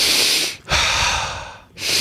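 A person demonstrates circular breathing for stress relief, giving two strong, airy breaths through the nose with a short pause between them, close and loud with no talking.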